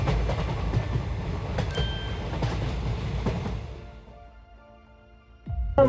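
A regional train rolls on rails with a low rumble and clatter that fade as it slows to a stop at a station, then a sudden louder noise returns at the end.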